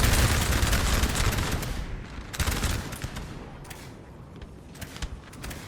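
Musket volleys and artillery in Napoleon: Total War rattle out as dense, crackling fusillades, loud at first and then thinning into scattered, sharp bursts of gunfire.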